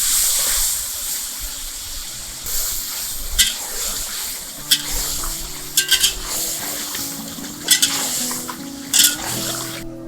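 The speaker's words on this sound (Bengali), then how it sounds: "এদিকে আলু দিয়ে মাংসটা খুব ভালো করে কষিয়ে নিচ্ছে।" Meat being stir-fried with potatoes in a pan: a continuous sizzle with sharp spatula strikes and scraping, while a low droning hum runs underneath and no one speaks.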